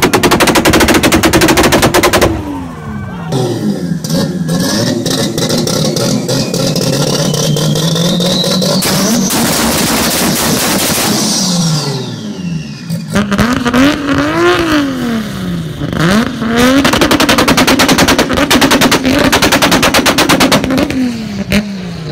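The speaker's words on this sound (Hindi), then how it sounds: "Loud exhaust and anti lag पटाखे।" Loud Toyota Supra with tuned exhaust revving hard, with rapid machine-gun-like anti-lag backfire pops and crackles between the rising and falling engine howl, very close and loud.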